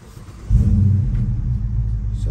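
A 2021 Dodge Charger R/T's naturally aspirated V8 engine cranks and catches about half a second in, settling into a loud, deep, steady idle rumble with no voices.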